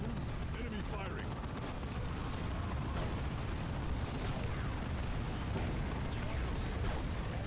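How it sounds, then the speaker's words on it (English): Enemy gunfire and explosions rumble in a Dawn of War 2 battle, a dense, continuous wall of low booms and bursts at steady loudness, with scattered crackling shots throughout. "Enemy firing."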